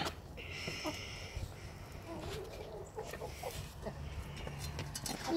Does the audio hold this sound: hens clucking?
yes